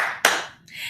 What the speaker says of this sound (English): Now we're going to come into some claps.